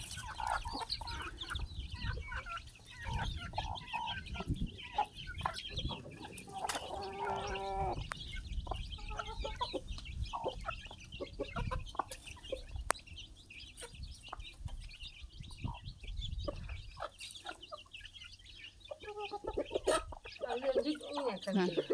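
Chickens cluck and a rooster calls throughout as a father feeds them at a rural garden farmhouse, the birds close and busy with steady overlapping clucks, while someone talks over them in places.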